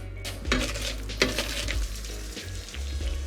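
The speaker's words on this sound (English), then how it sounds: "I'm just mashing that until it's velvety." Sweet potato being mashed with a good chunk of butter in a pot, heard as close, repeated clanks and scrapes of a utensil against the pan over soft squelching, with no talk.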